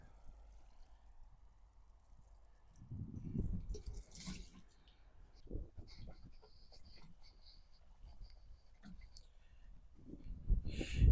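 Water splashes and pours unevenly from a watering can onto garden plants and strawberries, in soft, intermittent bursts that rise and fall, close by, with faint outdoor background and no speech.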